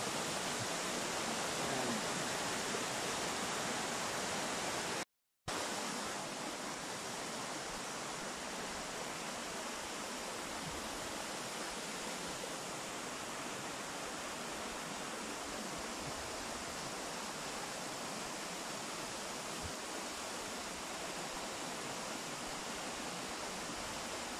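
Steady, dense roar of the Al Hada waterfall in Saudi Arabia, continuous and close, with a brief dropout partway through and no voices.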